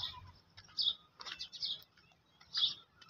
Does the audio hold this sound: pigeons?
yes